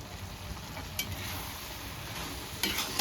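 Chicken fries in an iron pan with freshly ground garam masala while being stirred, giving a soft, continuous low sizzle with a couple of faint scraping stirs.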